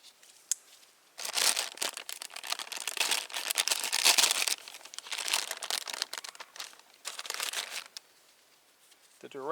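A sealed paper or plastic bag of demolition concrete mix crinkles and crackles up close in long loud bursts of handling, with brief quiet pauses between.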